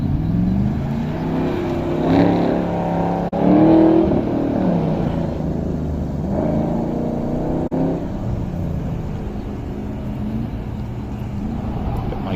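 A Z28 Camaro runs an SCCA autocross course, its engine droning steadily with rises and dips as it revs and maneuvers, heard from a moderate distance throughout.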